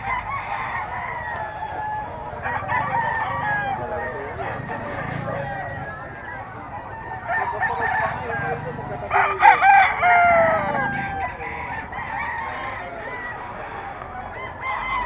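Several crows from a young gamecock stag sound at a bird market alongside goose-like honks and clucking fowl, with people talking throughout.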